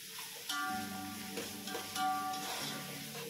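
Tomatoes stirred into a sizzling mixture in a pan, a steady fry hiss with a few clinks and scrapes of the spoon, close and alone.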